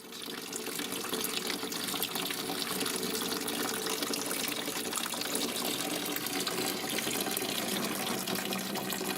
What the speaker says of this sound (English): I'll be back when we're all done pouring the beers in.